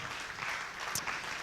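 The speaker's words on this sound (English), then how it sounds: "Please give a big round of applause to Dr. Tzvi Marom, founder and CEO of Batam." Conference audience at a digital-industry event in Tel Aviv applauds a speaker, a short burst of dense, even clapping heard from within the room.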